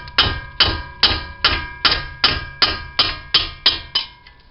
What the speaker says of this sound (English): I like to use a mallet to break the bolts loose.